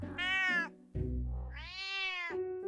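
A domestic cat meows twice, drawn-out and tonal, close and clear with no talking around it.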